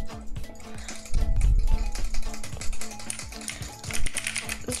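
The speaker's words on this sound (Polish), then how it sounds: "Dobra, klikam." Rapid, dense clicking from a computer game session, a busy stream of sharp taps running steadily throughout at close range, with no speech.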